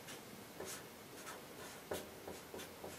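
A pen writes fractions on paper in a quiet room, with soft scratchy strokes and several short taps, close and faint, with no talking.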